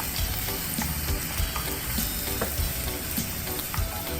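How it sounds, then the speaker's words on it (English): Shredded eggplant blend frying in a skillet, a loud dense continuous sizzle and crackle with light stirring scrapes throughout, close up and with no talking. "And now we're going to add our shredded eggplant blend"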